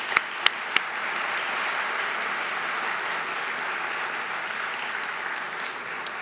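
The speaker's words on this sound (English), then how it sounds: "So please, round of applause for Dawood." Conference audience at a state technology forum giving a round of applause, a dense, steady wash of many hands clapping that continues evenly throughout, with a few sharper claps standing out near the start.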